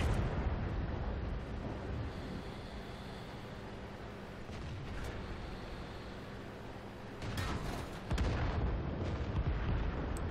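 World of Tanks tank cannon fire and explosions come as faint, muffled booms under rumbling in-game battle noise, with a louder burst near the end.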